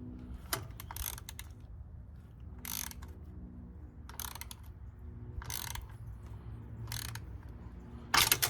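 A half-inch drive ratchet fitted with a 9/16 socket clicks in several quick bursts during an oil change on a 2010 Harley-Davidson Dyna, close and crisp over a low background hum.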